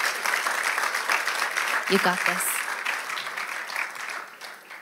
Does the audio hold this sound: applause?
yes